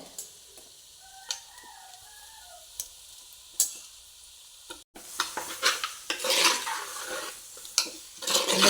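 Chicken cooking with chicken masala, turmeric and coriander leaves in a pan starts with a few faint ticks and taps, then bursts into louder sizzling and scraping stirring close by.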